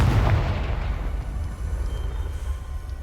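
A Confringo fire spell bursts in Hogwarts Legacy, a heavy booming explosion up front followed by a sustained low rumble that fades slowly without any talk.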